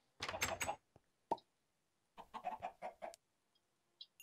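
Chickens cluck in a video game, two short bursts of clucking separated by brief pauses and a soft thump, quiet and without talk.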